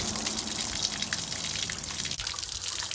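Water gushing steadily from a loosened RV plumbing fitting while draining the system for winterizing, a continuous close splashing flow with a brief dip near the end.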